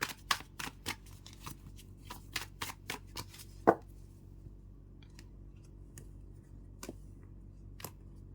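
Tarot cards riffle-shuffled close up, a quick run of crisp flicks over the first few seconds, then a single sharp slap and a few sparse snaps spaced apart in a quiet room.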